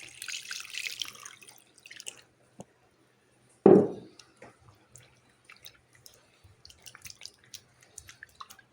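Liquid is poured into a fish curry (thedu fish) in a home kitchen: one short splash, then scattered faint drips and small clinks against a quiet background.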